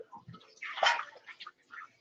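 Water splashes and gurgles into a cooking pot while dinner is being made, in short uneven bursts with a stronger rush in the middle, close by in a kitchen.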